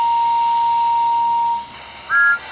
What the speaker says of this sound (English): she gave two high toots